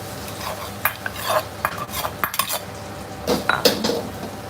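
Chili paste goes into a pan for Thai cooking and is stirred, giving sharp metallic scrapes and clinks of a utensil against the pan in an irregular rhythm, close and moderately loud over a faint background hiss.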